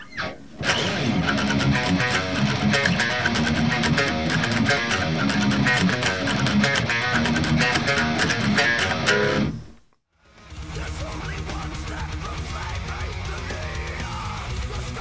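Distorted electric guitar plays a verse riff, dense and loud without pause for nearly ten seconds, then a brief drop to silence before the heavy tone returns and continues to the end.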